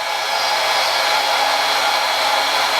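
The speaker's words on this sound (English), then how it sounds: "As soon as the gun's up to temperature, I'll get it done." Hot air plastic welding gun heating up while fitting a shower, giving a steady, loud broadband hiss with an even level and no voices throughout.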